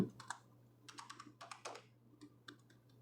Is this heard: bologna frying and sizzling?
no